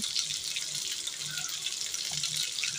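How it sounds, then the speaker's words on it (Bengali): Water pours from a tap into a pan of fried fish and onions being cooked for Bengali fish bhuna, a steady close gushing stream running the whole time with no talk. "দিয়ে পরিমাণ করে পানি দিয়ে দেব।"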